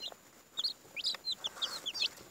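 One-day-old baby chicks, including a barred rock, peep in quick, high, scattered chirps, close and fairly soft, several overlapping in an uneven stream with no talking.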